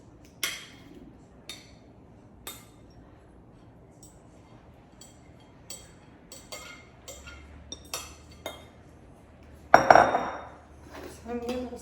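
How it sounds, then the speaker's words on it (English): A spoon clinks against a bowl as sliced eggs are stirred into cornbread dressing, giving scattered close taps and scrapes at an uneven pace with a louder clatter near the end. "I'm gonna stir that up now. Try to break up those eggs a little"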